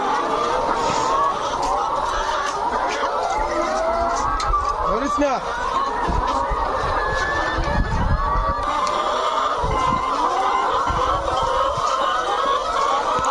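Hens on a poultry farm of over seven thousand birds in Comilla cluck steadily in a busy shed, a dense background of fowl noise with someone talking over it.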